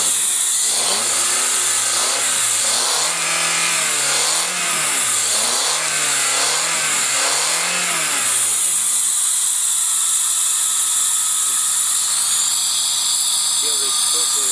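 A Toyota Camry engine runs and revs in quick repeated surges for several seconds, then drops to a steady idle hum with a high whine above it.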